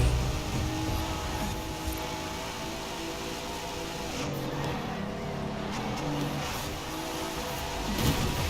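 Race car engines in a Forza Horizon 4 GTLM championship race, with Lamborghinis leading the pack, a loud continuous engine roar with shifting revs and occasional tire noise, close and steady throughout.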